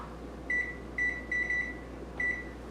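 Kitchen timer for boiling Indonesian bakso meatballs beeps four times in short even pulses, close and clear over a low steady hum.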